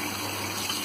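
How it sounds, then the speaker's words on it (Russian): Tap water runs steadily into a sink as young potatoes are rinsed, a continuous close gush with no talk over it. "Открываем воду и начинаем ее мыть."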